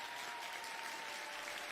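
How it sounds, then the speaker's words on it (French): An audience gives soft, steady applause to welcome a guest, a continuous even wash of clapping heard faintly at a distance with no talk over it. "Donc, par applaudissement, Geneviève."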